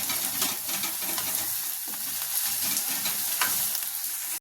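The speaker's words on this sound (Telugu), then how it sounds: "ఉల్లిపాయలు ఎర్రగా ఫ్రై అవ్వాలి బాగా" Sliced onions frying hard in hot oil in a pan for a Telugu urad-dal vadiyala pulusu, a dense, steady crackling sizzle with faint stirring scrapes, close and continuous with no talk.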